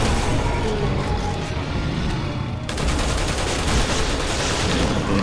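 Gunfire in the video game Resident Evil 6 comes as dense, rapid bursts of shots over a loud, busy game soundscape. The sound is continuous and close, and the shooting grows sharper and more rhythmic in the second half.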